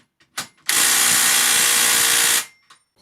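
A Makita 40-volt cordless impact tool hammers at a stainless steel nut, one loud, close continuous burst of about two seconds with short clicks before and after.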